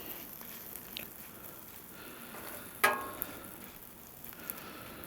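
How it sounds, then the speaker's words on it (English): Shrimp fry in olive oil on a Blackstone griddle with a soft, steady sizzle, quiet throughout, broken by a sharp metallic clack midway and a few lighter taps. "I might add a little bit of olive oil to this shrimp and give it a good stir. Help it fry up"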